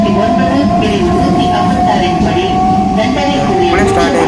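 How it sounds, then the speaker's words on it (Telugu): An EMU electric train running between Arakkonam and Kanchipuram pulls away and gathers speed, a loud, sustained rumble of wheels and motors with rising tonal whine, heard from inside the coach. "ఈ ట్రైన్ ఇనీషియల్గా పుల్ మాత్రం చాలా బాగుంది"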